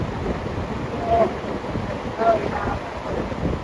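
A fan run from a UDPower S1200 portable power station blows a steady, close, roaring rush of air across the microphone, with a couple of brief swells and a voice speaking briefly over it.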